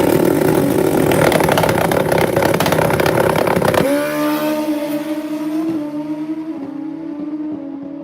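Drag bikes at Rockingham Dragway in North Carolina roar loudly at launch, then the engine noise quickly drops away to a lower droning rumble that fades into the distance. No voices.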